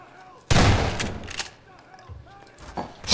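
Gunfire in the video game Garry's Mod, with a loud, dense burst that runs for about a second, then a few more sharp cracks. Players can be heard talking around the shots.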